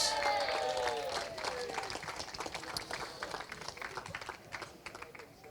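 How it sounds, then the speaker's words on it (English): Audience applause at a Kartmasters Grand Prix karting prize-giving, greeting a Mini X30 kart driver: a steady, dense patter of clapping from a crowd, fairly distant and sustained, gradually thinning out. "Big round of applause, please, for Minimax driver 37, Reg Hayward"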